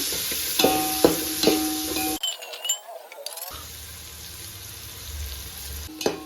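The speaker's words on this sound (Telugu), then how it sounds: "నూనె వేసుకొని కొద్దిగా వేయించుకుందాము." Onions and green chillies fry in oil in a pan for egg dum biriyani, a close sizzle with stirring clinks early on, a brief break, then steady softer frying hiss.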